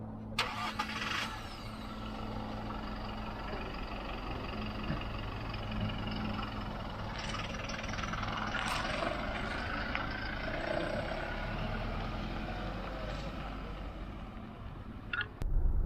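A manual 2023 Toyota Fortuner 2.4 GD6 diesel engine starts with a brief crank and then settles into a steady, low engine drone with road noise as it drives, continuous and fairly close, with no talking.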